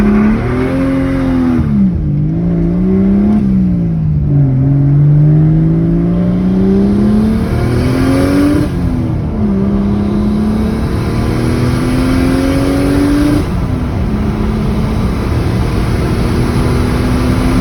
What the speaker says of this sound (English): trying to launch the car, but as you'll see, it just roasts the tires in first gear